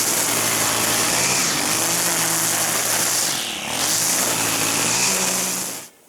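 Stihl FS 90 R 4-Mix string trimmer engine running steadily at a high, buzzing idle, with a brief dip in pitch midway and cutting off at the end, loud and close.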